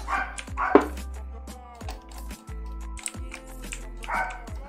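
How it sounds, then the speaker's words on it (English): A dog barks a few times in short bursts at moderate distance, heard over a steady background of music and sound effects during a virtual-reality building session. "Dog is barking a bit."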